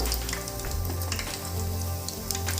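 Chicken pieces deep frying in hot oil, a dense bubbling sizzle with a low steady hum beneath and occasional crackles, close and unbroken.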